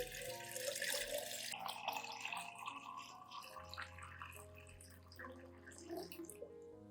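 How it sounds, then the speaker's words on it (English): Clean room-temperature water pours steadily into a plant solution for dilution, a continuous splashing stream that is strongest at first and then settles into a softer trickle. "Add 1 liter of clean water at room temperature to dilute the solution."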